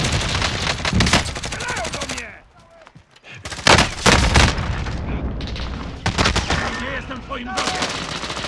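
Rapid bursts of gunfire in the video game Call of Duty: Warzone crackle loudly, broken by a brief lull, with voices talking over the shooting.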